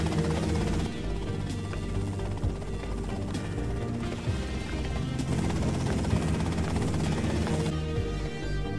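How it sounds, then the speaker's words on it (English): Helicopter flying in the video game GTA Vice City, a steady loud mechanical whir with a rapid rhythmic chop, continuous throughout with brief louder knocks, no speech over it. "that's them in the chopper"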